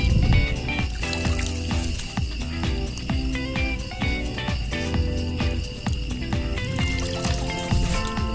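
Water trickles and splashes steadily while aquatic plants (apu-apu, water lettuce) are cleared out of a halfmoon betta fish tank, with soft wet handling noises throughout and no talking.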